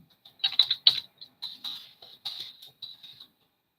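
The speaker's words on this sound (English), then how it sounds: "Let me just type that greeting." Light tapping on a computer keyboard, a short run of quick clicks in small irregular clusters, close and fairly quiet, ending in silence.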